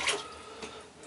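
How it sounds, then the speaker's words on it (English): A few last drips of water fall from an emptied shaving bowl, brief soft taps separated by quiet, heard close and alone. "dump out the bowl"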